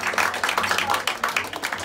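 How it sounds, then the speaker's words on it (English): A small crowd at a live music show at Barbès claps in a brief, scattered round of applause, fairly close, with some voices mixed in. "round of applause."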